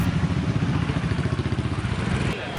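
Motorcycles ridden by a group of women along a forest trail, a steady pulsing engine rumble close by with rattling mechanical clatter, no one talking.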